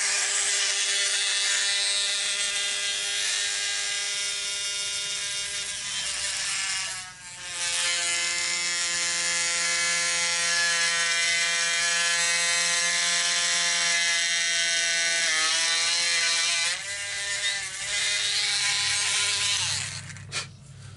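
A steady, loud high-pitched mechanical whine of a drill boring through resin on a model kit, running continuously, briefly dipping in pitch twice as it bites, then spinning down at the end.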